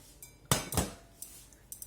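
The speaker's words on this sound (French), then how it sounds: "Comme ça, je récupère la casserole" A metal saucepan clanks and scrapes twice in quick succession, followed by a few lighter clinks against a quiet background.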